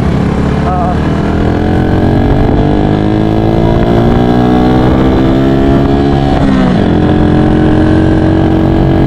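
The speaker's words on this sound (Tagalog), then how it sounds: "may kasabayan tayo, maraming mga motor, nakamotor rin" Several motorcycles ride together along a road on the way to Bukana, their engines droning loudly and continuously, with rising and falling pitch as they rev and pass close by.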